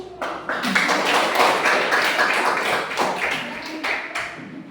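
Students in a classroom clap together for a group that just presented, a burst of fairly loud, dense clapping lasting several seconds before tapering off.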